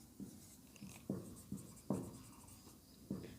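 Chalk or marker strokes on a board, a series of about seven short scratchy bursts in an irregular rhythm, close and moderately loud with no talk over them.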